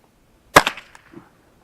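One sharp, quiet gunshot crack from a .22 LR rifle firing Thunderbolt ammunition, a single brief snap with a short tail, alone in otherwise quiet surroundings.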